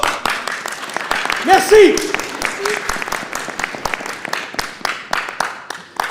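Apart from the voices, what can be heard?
audience applause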